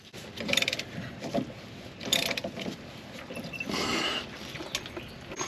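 Clicking, ratcheting mechanical sounds from a 36 millimeter socket on a ratchet wrench during diesel engine maintenance, heard in short irregular bursts close up with no talking.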